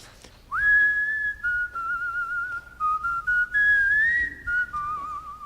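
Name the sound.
man whistling a tune without a set melody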